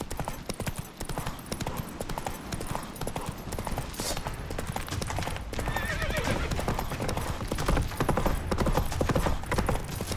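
A horse gallops in The Witcher 3 video game, a fast continuous clip-clop of hooves with a brief whinny, under game music and action sounds throughout.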